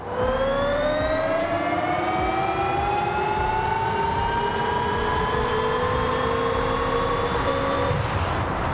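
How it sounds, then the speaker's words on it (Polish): A smooth electric motor whine from a 2024 Hyundai N Vision 74 in Forza Horizon 5 rises steadily in pitch over a continuous roar, like an accelerating electric car, with no voices. "za dźwięk odpowiadają tutaj silniki elektryczne"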